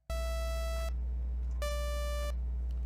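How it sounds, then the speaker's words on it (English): Two clean synthetic beeps from a basic one-oscillator software synthesizer built in Flowstone, each a steady buzzy tone lasting under a second with a short gap between, loud and isolated over a low hum. "we're just going to get a short beep"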